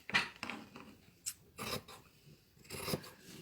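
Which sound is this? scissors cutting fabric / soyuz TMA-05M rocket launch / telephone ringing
scissors cutting fabric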